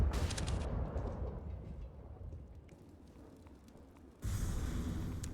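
Grenades going off during a professional CS:GO match on the Train map: dull, rumbling bursts with crackling debris, loud at the start, fading through the middle, then surging again near the end.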